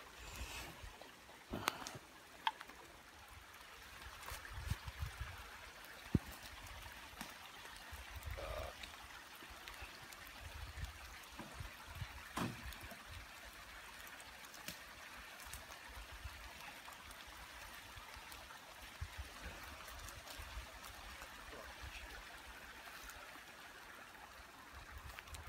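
Steady rushing of Coyote Creek water runs throughout, fairly quiet and close, with scattered small splashes and knocks and no voices.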